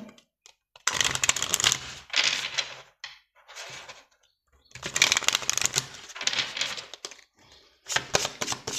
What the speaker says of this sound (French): on va prendre une carte de conclusion